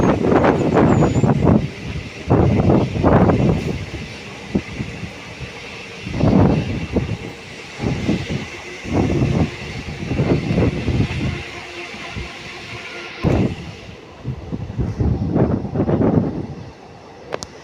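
A DEMU train runs on the Secunderabad–Siddipet line near Manoharabad, giving a low rumble broken by repeated loud bursts of wind buffeting, with no talk.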